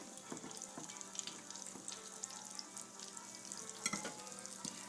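Green tomato slices frying in hot oil in a black iron skillet, a low crackling sizzle with occasional utensil clicks and a few sharper pops, close and quiet.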